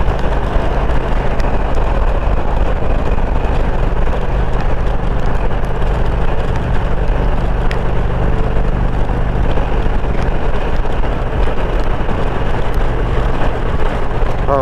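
Steady, loud wind rush buffeting the microphone while riding a 2021 Indian Roadmaster motorcycle, with a low engine drone underneath, continuous throughout with no talk.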